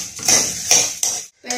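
Freshly roasted spices and garlic are tipped and tapped off a pan onto a metal plate, giving several bright metallic clinks and scrapes in quick succession, close and fairly loud, with a short silent gap.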